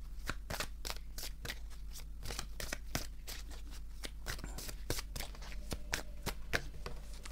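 A deck of playing cards being shuffled and drawn, a steady run of quick crisp riffling flicks and snaps, quiet and close with a low hum beneath.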